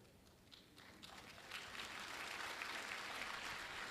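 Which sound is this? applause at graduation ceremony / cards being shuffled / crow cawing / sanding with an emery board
applause at graduation ceremony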